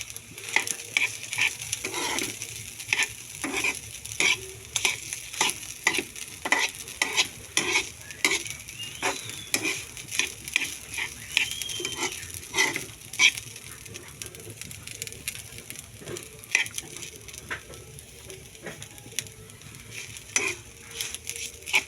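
Rice frying in oil in a pan, stirred with a utensil that scrapes and taps the pan in quick irregular strokes over a continuous crackling sizzle, close and fairly loud.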